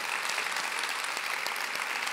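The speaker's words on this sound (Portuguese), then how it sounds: "Eu queria também tirar esse momentinho para a gente aplaudir o trabalho desse pessoal todo" Audience members at a women's conference clap together in a continuous, even patter, moderately distant and steady throughout with no voices rising above it.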